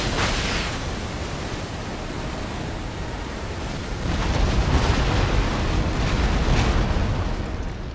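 Rockets fire at point-blank range in Empire: Total War, making a roaring, hissing noise wash with bursts and explosions that swell loud near the start and again halfway, with no talk over them.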